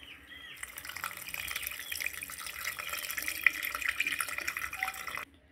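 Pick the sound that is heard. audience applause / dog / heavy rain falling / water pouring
water pouring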